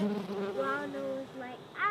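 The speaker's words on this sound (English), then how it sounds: "There's a bee on there." A bee buzzing close by near a trailer, its wavering hum rising and falling in pitch across a couple of seconds.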